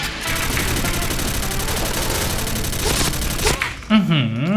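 Gunfire from a shotgun in the Counter-Strike Online video game, rapid loud reports in a sustained barrage that cuts off near the end, where a voice briefly speaks.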